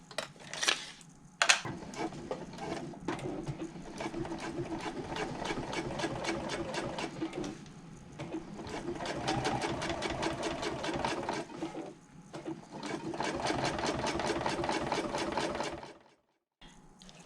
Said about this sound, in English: we're going to top stitch this seam through the liner panel and the seam allowance